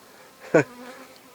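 A brief bee buzz passes close by near a swarm trap, a single short drone rising out of quiet background hiss.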